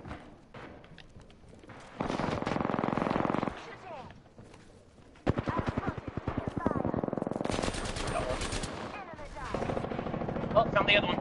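Bursts of automatic gunfire from a multiplayer shooter game come in rapid rattling volleys, with loud sustained strings of shots separated by brief pauses, while players talk over the action.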